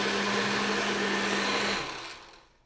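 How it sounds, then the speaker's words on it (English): A faulty household blender whose buttons no longer work runs at a steady loud whirring drone, then cuts off and spins down over the last second, heard alone. "This blender is so messed up that the buttons don't work on it anymore."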